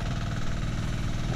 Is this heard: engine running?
yes